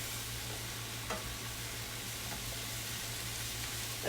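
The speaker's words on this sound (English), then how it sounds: "Get some shrooms fried." Half an onion and a package of mushrooms fry in a pan for beef stroganoff, a soft steady sizzle with a low hum beneath, a couple of faint stirring scrapes and a louder scrape at the end.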